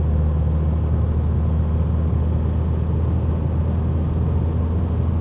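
A 1959 Mercedes 180D diesel sedan on the road, its engine giving a loud, steady low rumble and drone with constant road noise, heard from inside the car without pause.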